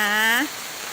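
A steady hiss of falling rain continues throughout, with a brief voice sounding over it at the start before it carries on alone.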